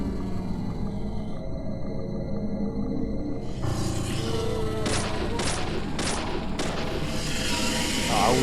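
Gunfire headshots in the video game Deadly Premonition, a run of sharp, loud shots spaced roughly half a second apart over a droning game soundtrack, followed by more noisy impact.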